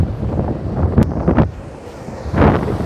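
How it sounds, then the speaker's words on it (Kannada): Large evening waves breaking on the shore at Malpe beach, a loud rolling roar that swells and surges in broad washes, heavily buffeted by wind rumble on the microphone. "ಆ್ಯಕ್ಚುಲಿ ನೋಡಿ ಎಷ್ಟು ದೊಡ್ಡ ಅಲೆ ಬರ್ತಿದೆ"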